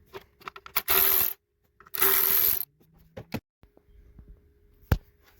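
Tool backing out T25 screws from a part in the engine bay of a BMW F30 335i with an N55 engine: two loud sustained whirring bursts, then scattered metallic clicks, taps and a sharp knock.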